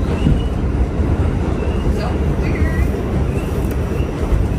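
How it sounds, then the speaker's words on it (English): Steady low rumbling and rattling of a New York subway car in motion in the Bronx, with faint squeals over the noise and voices murmuring indistinctly. "This is the iconic New York train."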